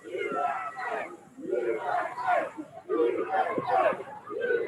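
A large wrestling crowd chants "USA" in unison, a rhythmic three-beat cheer repeated four times, loud and echoing as if in an arena.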